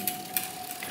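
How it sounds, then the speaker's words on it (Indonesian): A bicycle's mechanical front derailleur gives two faint, quick clicks a fraction of a second apart over a low steady hum. "bila teman-teman mendengar ada suara kretek-kretek, itu suara dari FD"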